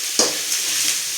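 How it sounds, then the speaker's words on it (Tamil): Sliced onions with a little rock salt sautéing in hot oil for a curry, a steady close sizzle with one brief stir or clatter near the start. "இது கொஞ்சம் நேரம் நல்லா எண்ணெயிலே வதங்கட்டும்"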